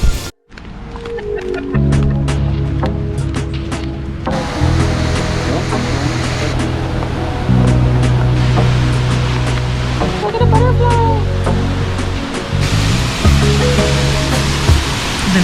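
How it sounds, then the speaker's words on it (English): Misol Ha waterfall in the Chiapas jungle, a 35-meter drop into a wide swimming pool, gives a loud, continuous, close rushing roar with a steady low droning hum underneath. "The Misol waterfall is 35 meters or 115 feet high."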